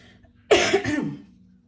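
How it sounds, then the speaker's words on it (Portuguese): A single close cough, a brief harsh burst followed by a short trailing rasp in a quiet room. "Perdão, uma tosse aqui."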